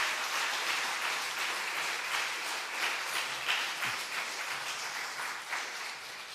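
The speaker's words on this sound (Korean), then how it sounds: "네, 박수해 주세요." A Korean church congregation claps together at a Sunday afternoon service, a soft, steady wash of applause heard from a distance that carries on evenly throughout.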